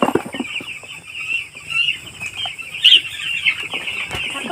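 Broiler chicks on a farm being handled for vaccination give high, repeated peeping chirps, fairly close and steady, with a louder burst partway through and occasional light rustling.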